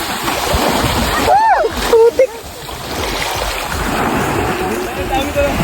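Sea waves washing in at a beach in Bagac, Bataan, a steady broad surf wash with splashing surges throughout, a few brief louder splashes near the middle, and a voice faintly mixed in.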